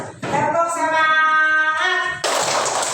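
A school class ends its lesson with a rhythmic spirit clap: sustained chanting voices come first, then a dense, close burst of group clapping.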